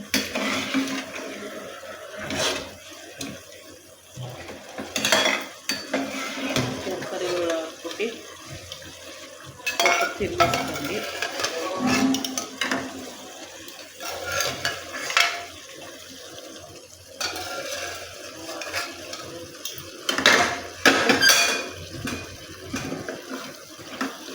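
Vegetables and lotus seeds being roasted and stirred for masala upma, with scraping, clattering and watery sloshing sounds recurring in irregular bursts, fairly close and moderately loud, with no talk.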